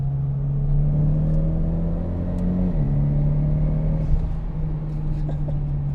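A Mitsubishi Lancer Evolution X engine hums steadily at low revs, its tone dipping briefly and then holding a constant drone close by.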